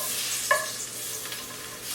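Garlic sizzles in a very hot pan of coconut oil, a bright crackling hiss that stays steady, broken by one sharp clink of a utensil and faint stirring scrapes, close by and with no voices.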